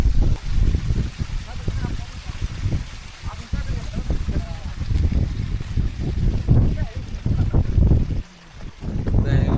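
Gusty monsoon wind on a trek at Korigad Fort near Pune buffets the microphone in loud, uneven rumbling bursts throughout, with people talking underneath.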